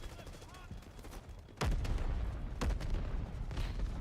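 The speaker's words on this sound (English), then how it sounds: "Artillery cover coming." Artillery shells land in the Delta Force video game, two heavy booms about a second apart after a stretch of scattered distant gunfire, each leaving a rumbling low tail under continuous battle noise.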